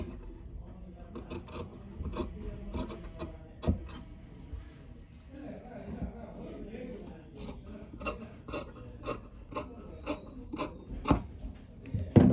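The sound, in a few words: scissors cutting blouse fabric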